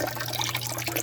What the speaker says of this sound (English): So I'm going to drain it about halfway here